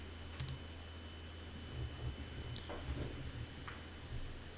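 A computer mouse gives a few faint, sparse clicks over a quiet room background.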